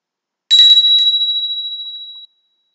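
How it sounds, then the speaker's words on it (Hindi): A single bell rings once, loud and bright, then fades smoothly over about two seconds. It is heard alone, used as a signal tone. "आपने घंटी की आवाज सुनी यानी कि यस यानी कि हाँ"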